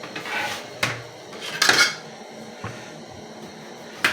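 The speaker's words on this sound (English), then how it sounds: "Meanwhile, I will continue chopping my" A knife chops vegetables on a board in a home kitchen while a tilapia stew is prepared, giving scattered sharp knocks and scrapes with clinking utensil sounds and a loud cluster in the middle, with no talking.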